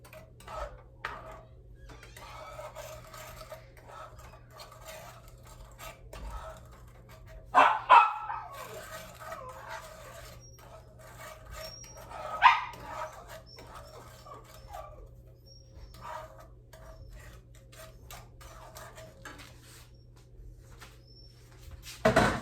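A sheepadoodle dog barks in the background of a home kitchen while cake is being made, with a few sharp, loud barks standing out near the start, middle and end over a steady low hum.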